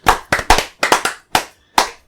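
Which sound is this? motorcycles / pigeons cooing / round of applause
round of applause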